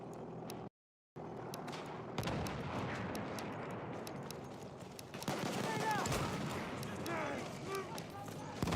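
Scattered gunshots ring out during a competitive Xbox One Incursions championship match, some distant shots mixed with faster bursts and footsteps, under continuous commentary.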